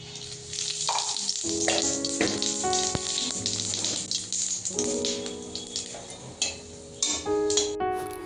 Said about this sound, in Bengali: তারপর দিয়ে দেবো অল্প জিরে